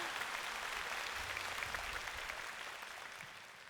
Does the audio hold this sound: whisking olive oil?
no